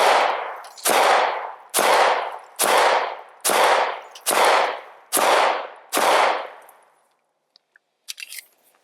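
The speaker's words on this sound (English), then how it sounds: "I'm just going to shoot it with bare hands because I usually don't use gloves." Eight loud, close gunshots from a 1911 pistol fired bare-handed ring out at an even, quick pace, each with a short echoing decay. A few faint clicks of handling follow after a brief silence.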